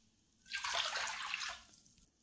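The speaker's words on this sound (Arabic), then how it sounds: "بدي 3 أكواب من المي الدافية" Warm water is poured into a bowl for qatayef batter in a home kitchen, a steady close splashing stream lasting about a second before it stops, with no talk.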